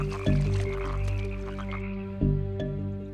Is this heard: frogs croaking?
yes